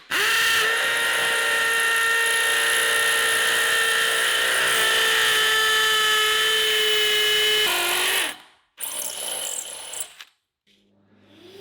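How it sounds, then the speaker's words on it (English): A power drill bores holes into a concrete floor to fix steel track during interior house building, whining loud and steady for about eight seconds before stopping, then a short burst follows. "I just drill some holes and screw it to the floor."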